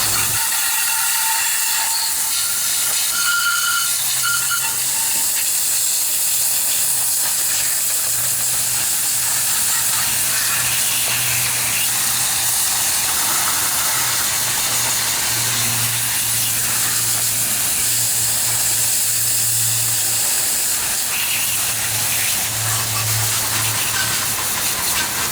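A hose sprays water steadily onto a junkyard Briggs and Stratton Intek twin riding lawnmower engine to rinse off degreaser, a loud continuous hiss with faint mechanical clicks underneath.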